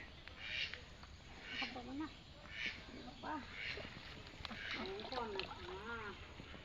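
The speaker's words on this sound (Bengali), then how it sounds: "হাঁসগুলো আমাকে দেখে আর সামনে আগাইছে" Several ducks quack repeatedly at a moderate distance in a house courtyard, their calls coming in uneven bursts over a soft outdoor background.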